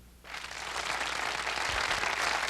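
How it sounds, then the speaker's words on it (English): A studio audience on a 1980s television showcase bursts into applause that builds quickly from quiet and holds as a steady, moderately loud wash of clapping, with a couple of low thumps partway through. "Let's have a round of applause for Kelly Kiernan"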